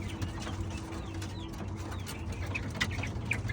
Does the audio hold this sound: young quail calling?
yes